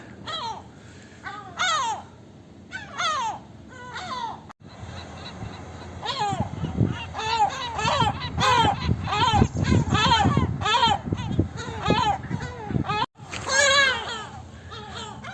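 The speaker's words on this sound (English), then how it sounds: "the gulls taking umbrage to my presence, and they swoop you" Seagulls call overhead in repeated shrill, rising squawks, coming in bursts with short pauses, and a person's voice is heard faintly at times.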